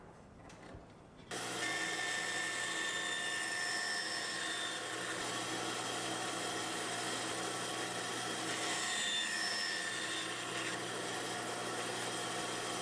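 A bandsaw runs with a steady whine while a wood board is fed through on a miter gauge, starting up after a quiet moment and holding a constant drone throughout.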